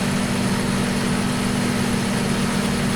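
A John Deere 9RX tractor engine in the Farming Simulator 2015 video game drones steadily and loudly, a constant low hum with a slightly distorted, buzzy tone and no speech.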